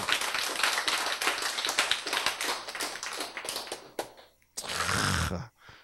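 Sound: audience clapping

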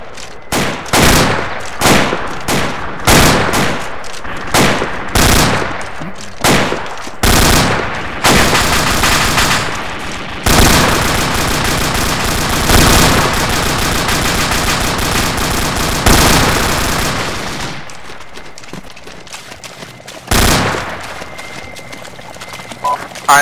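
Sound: gunfire in the video game Arma 2

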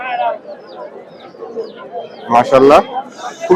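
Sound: pigeons cooing at a pigeon market

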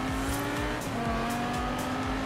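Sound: McLaren supercar engine and tire squeal in video game Forza Horizon 4

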